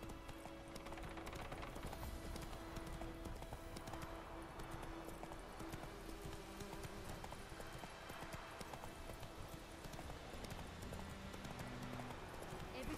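Hooves of the horse Roach beat in a steady galloping clip-clop throughout a Witcher 3 ride, faint and continuous beneath game ambience, with a person talking over it.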